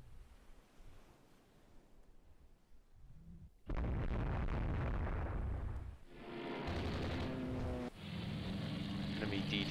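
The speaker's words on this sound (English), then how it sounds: "hit by a torpedo over there" Torpedo hit on a cruiser in the naval game Rule the Waves 2: after a quiet rumble, a heavy explosion erupts into a loud, sustained roaring blast with surging, wave-like noise that carries on with further swells.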